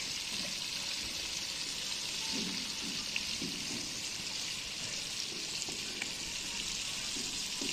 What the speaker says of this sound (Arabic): وهي يا جماعة هيك قاعدين نقلي السمك.